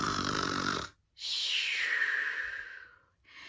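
Children in a group imitate a giant's snore with their voices, making two long, loud breathy snore sounds, the second drawn out and falling, followed by the start of a third.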